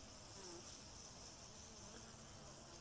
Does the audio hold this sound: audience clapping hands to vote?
no